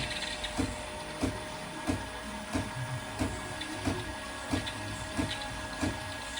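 A Dr. Coffee M12 coffee machine with a milk-frothing fault runs under repair, a steady mechanical hum with regular pump pulses thumping about every two-thirds of a second, close and alone.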